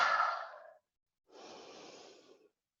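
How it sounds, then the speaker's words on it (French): Two open-mouthed breaths in lion's breath yoga: a strong forceful exhale fading over most of a second, a brief silence, then a longer, softer airy breath, close and alone with no talk. "Respiration du lion."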